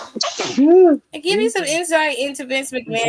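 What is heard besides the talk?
sneeze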